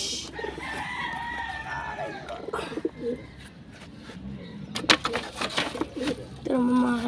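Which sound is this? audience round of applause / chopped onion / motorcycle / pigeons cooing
pigeons cooing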